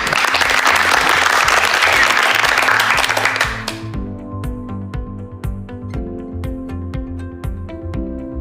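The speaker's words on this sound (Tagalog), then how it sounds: "Maaari nyo bang bigyan sila ng virtual na palakpak?" A burst of applause for award recipients at a reading-strategies webinar, dense clapping that fades after a few seconds into a steady backing music track.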